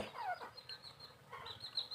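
A large mother hen of a Thai game-fowl line clucking, a few soft, short calls close by against a quiet farmyard background, with no talk.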